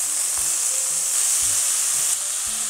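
Carrots sizzle in a frying pan, a loud, bright, continuous hiss with small pops and scrapes of stirring, briefly easing at the end.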